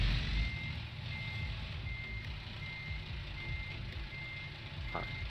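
Truck reversing beeps in American Truck Simulator ring out as a steady repeating tone over a constant low engine rumble, continuing throughout with no talk.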